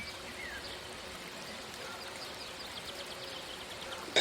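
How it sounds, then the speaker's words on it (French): A small, shallow tree-lined river about two metres wide flows with a steady soft rush and trickle, moderately distant, with faint birdsong above and no voices. "Il s'agit d'une rivière, un modeste cours d'eau de 2 mètres de large environ,"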